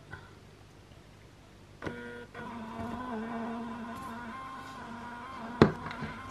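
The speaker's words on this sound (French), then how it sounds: "Ça imprime rapidement." A label printer runs off labels for school notebooks: a brief click, then a steady whirring motor feed lasting several seconds, ending in a sharp snap, recorded up close.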